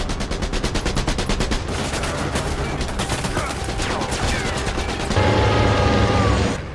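Machine-gun fire from a motorcycle in a war film: rapid, evenly spaced bursts of shots rattle loudly, give way to a denser roar of gunfire, then a heavier rumbling blast near the end.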